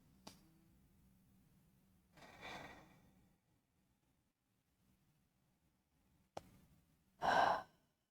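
Slow, relaxed yoga breaths, heard as two soft, close exhales several seconds apart in a quiet room, the second one louder and longer, like a sigh.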